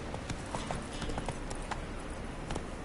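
Horse hooves clip-clopping at a steady gallop rhythm across rough ground in The Witcher 3, fairly close and continuous, with no talking over them.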